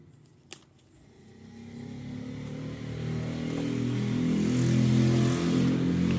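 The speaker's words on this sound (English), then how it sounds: "Motorbike." A motorbike approaches from a distance, its engine growing steadily louder and rougher over several seconds, with a faint metallic clink near the start.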